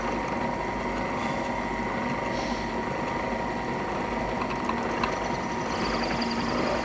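A drill press bores slowly into a tobacco pipe, its motor giving a steady whirring hum with a grinding, rattling edge, continuous and close, with no voices.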